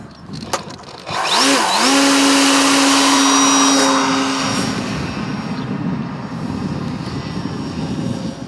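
A radio-controlled model airplane's engine revs up to a loud sustained buzzing whine, holds a steady pitch, then eases and fades slightly as the plane flies off in gusty wind.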